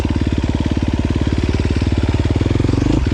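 A KTM 350 XC-F motorcycle with a Vortex-tuned ECU putters at low revs, a loud close single-cylinder thump in a fast, even rhythm that briefly stumbles near the end.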